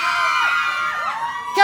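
A crowd shouts and cheers loudly at a live hair-product event stage show, a sustained wash of whoops and yells that swells louder at the end.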